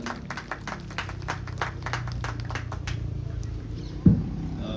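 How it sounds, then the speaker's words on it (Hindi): An audience at an outdoor International Yoga Day event on a police ground in Chhindwara claps to welcome the district collector. The claps are crisp and moderately distant, thin out after a few seconds and end with a single dull thump. "जोरदार तालियों से अभिनंदन कीजिए।"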